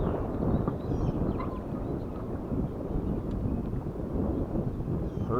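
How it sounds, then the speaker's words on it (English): Heavy wind buffets the microphone on a crappie fishing dock, a constant low rumbling roar that fills the whole stretch with no talking. "Pardon the wind, okay?"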